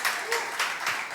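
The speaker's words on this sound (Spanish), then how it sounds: "recibamos con un fuerte aplauso a Fin de Cuentos" Audience applause for a comedy act, a short burst of clapping with a few pulsing swells and faint voices mixed in.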